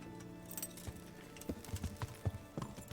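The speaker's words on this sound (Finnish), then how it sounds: "Sieltä hevonen." Horse hooves clip-clop in Kingdom Come: Deliverance, a rough run of uneven hoof strikes that grows louder and more distinct in the second half, heard alone over faint background ambience.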